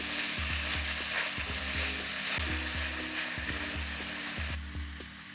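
Pork stir-frying with sugar and gochujang sauce, caramelizing in a hot pan. A loud, constant sizzle runs under rhythmic scraping stirs with a low hum, fading slightly at the end, no voices.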